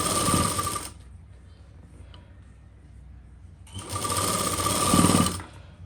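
A sewing machine stitching the lining of a Burberry-fabric suit runs in two loud, fast whirring bursts, near and steady, with a quiet pause between them.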